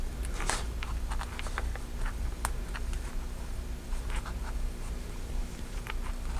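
A pen moves across the page of a Dollar Tree weekly planner while a short list is written, with quick scratchy strokes and small taps in an irregular rhythm, close and clear over a low room hum.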